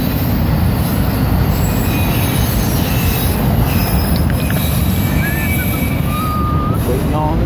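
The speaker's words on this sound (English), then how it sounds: "Waiting on the train." A train rolls past a crossing beside the tracks, a steady loud rumble of railcars with thin metal wheel squeals rising near the end, heard close and continuous.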